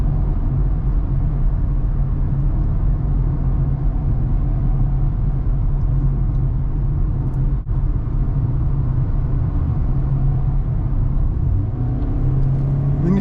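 A 2023 Kia Rio S hatchback pulls up an on-ramp under steady acceleration, its small engine droning in a continuous low rumble with road noise, slowly building without any sharp change, no voices over it.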